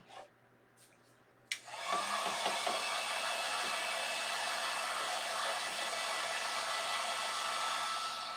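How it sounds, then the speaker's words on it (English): A heat gun blows steadily while drying a painted cross and tassel craft garland. It switches on abruptly after a quiet start and then holds a loud, even, close whooshing roar. "I'm going to take my heat gun and I'm going to dry this."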